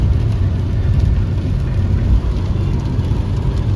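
Car cruising in fifth gear along an asphalt road, a steady low engine and road rumble with broadband tyre noise held at constant level throughout, no voices.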